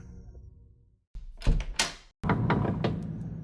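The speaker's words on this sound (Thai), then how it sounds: "เปิดประตูดูก่อนละกัน" An apartment door swings open with a latch click and a thump, followed by a second heavier knock or thud and some room noise, with no talking.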